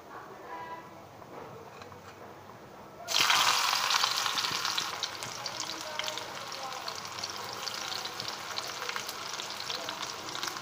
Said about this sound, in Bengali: এবার এর মধ্যে আমি পেঁয়াজ কুচি, রসুন কুচি দিয়ে দিব।